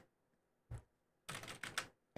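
Typing on a SteelSeries Apex Pro mechanical keyboard at medium speed, heard as a lone key click followed by a quick burst of several clattering keystrokes, close and fairly quiet with no talking.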